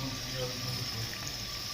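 Water pours steadily into a pot of boiling chicken, a continuous hissing rush with faint talk underneath.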